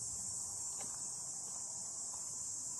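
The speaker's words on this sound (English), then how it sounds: "Cicadas. It's all you can hear." A steady, loud high-pitched insect drone, like cicadas, fills the air continuously with no pauses and no voices.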